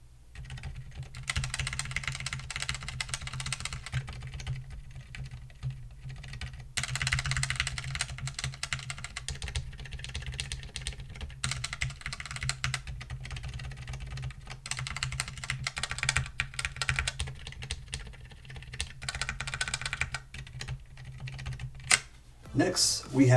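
Rapid typing on a mechanical keyboard fitted with Kailh V2 switches, a steady close clatter of keystrokes in several bursts with brief pauses, ending with a few louder isolated key hits.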